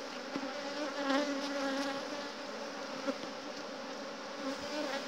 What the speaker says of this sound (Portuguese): Aqui já nasceu bastante abelha.